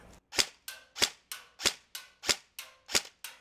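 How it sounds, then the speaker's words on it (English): Elite Force HK416 A5 airsoft rifle firing semi-automatic shots: nine sharp, evenly spaced cracks roughly a third of a second apart, loud and close, each followed by a brief mechanical rattle. "we're going to take a few shots and just see how this recoil is and go from there"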